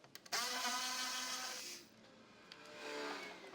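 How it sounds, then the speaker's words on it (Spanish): Screws come off a Mercedes GLE underbody cover: a few quick clicks, then a faint powered whir that fades and later rises again. "este cubrecárter tiene un montón de tornillitos que hay que desatornillar"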